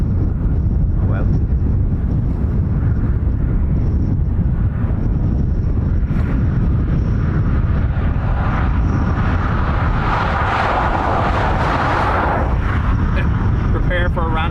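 Antonov AN-26B turboprop departing Dublin Airport, a low rumbling roar that swells in the second half, with wind buffeting the microphone and a voice talking over it.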